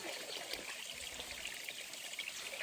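Spring water runs steadily from its source on a mountain hiking trail, a continuous close trickle and stream with no talking over it.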